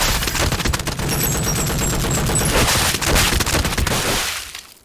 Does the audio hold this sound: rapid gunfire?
yes